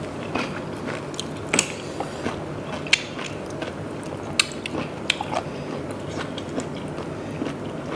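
Crunchy, close-up chewing of giant blood cockles with sweet spicy dipping sauce, a steady run of crisp bites and crunches spread irregularly across the stretch, with no talking.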